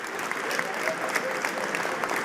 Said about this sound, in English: A round of applause for the choir.